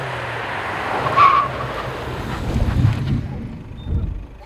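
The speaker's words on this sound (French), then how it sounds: "La distance complète donc de freinage est de 42 mètres et a duré donc 3 secondes." A car brakes hard from 84 km/h during a braking test at a driving-skills event on a motor-sport circuit, giving a loud, steady rush of tyre and road noise with a sharp squeal partway through, and no talk.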